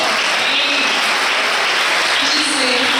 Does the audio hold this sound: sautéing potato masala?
no